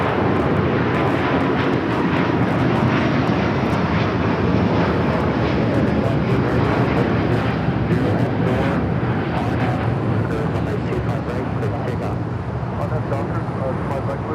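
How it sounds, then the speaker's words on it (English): A Delta Air Lines Airbus A350-900 bound for Shanghai takes off from LAX with a loud, continuous jet roar that fills the whole stretch, heard through wind noise with voices talking over it. "That is Delta Airlines Flight 39 taking off to Shanghai on the A350-900."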